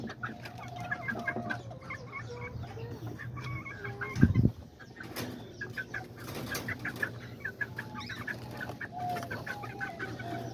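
Roosters and hens cluck in cages at a backyard farm, with a steady chorus of clucking, occasional crowing and a brief clatter, and no one speaking.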